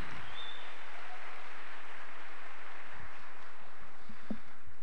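Applause from a graduation ceremony audience in Chile for a folk musician, a steady, even wash of many hands clapping throughout at moderate distance, with a few low thumps near the end.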